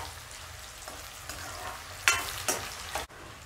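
Onions browning in hot oil with garam masala for a keema dish, a dense steady sizzle with a few louder bursts of stirring and scraping near the end, with no talk.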